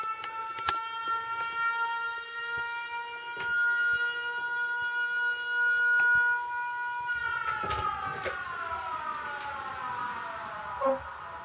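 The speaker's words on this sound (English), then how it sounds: "As you can hear, that is Siren." A synthetic siren effect from a Hercules MP3 e2 DJ controller wails steadily, then sweeps downward, with faint rhythmic clicks running underneath throughout.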